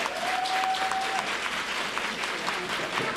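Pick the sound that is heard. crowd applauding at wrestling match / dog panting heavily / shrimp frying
crowd applauding at wrestling match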